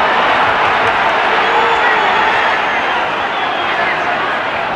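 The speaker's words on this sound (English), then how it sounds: "the crowd feeling it and responding" A large football crowd roars in a steady, loud wash of cheering and chatter at an Everton v Walsall FA Cup fourth-round match, with no break in the noise.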